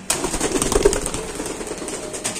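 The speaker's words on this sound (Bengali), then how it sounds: "তো দর্শক এখানে আছে আরেক পেয়ার কবুতর" Local pigeons kept for sale at a pigeon market in Bangladesh, with a steady murmur of crowd and market noise and soft, low cooing running underneath throughout.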